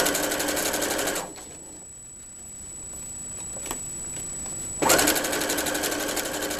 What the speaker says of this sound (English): Alright, I'm going to back stitch, because I did start at the top.